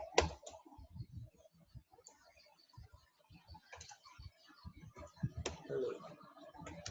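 Rapid keyboard typing of Python code, a steady run of light, close clicks with brief pauses between bursts of keystrokes.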